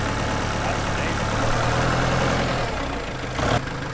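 A Kubota compact tractor engine runs steadily in its slowest creeping gear, a close, even diesel rumble with a clunk near the end and no clear talk.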